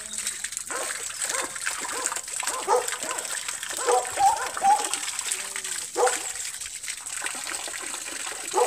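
Water pumped at 800 litres per hour pours steadily into a 3.5-metre garden pond being restarted for spring, a continuous splashing gush with no pause, its faint sound sitting under and between intermittent nearby voices.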